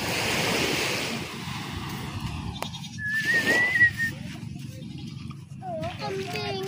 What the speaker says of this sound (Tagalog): Oh, kambing.